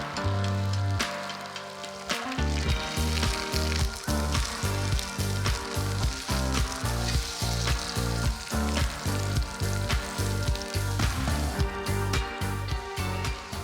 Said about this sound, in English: I'm also going to serve it with some spinach, again, very simply, into a pan. We're going to fry that off.